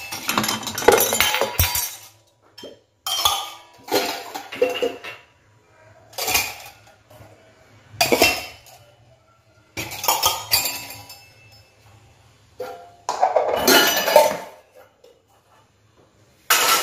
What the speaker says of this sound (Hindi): और अब मैं लगा दूँगी अपने ये जो बर्तन मांजे थे